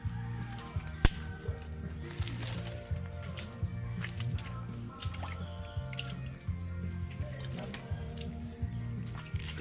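Nipa palm sap, called tuba, dripping from a cut stalk during a morning harvest, steady soft drips and squishy wet sounds against a low rhythmic background with a constant tonal hum, no talking.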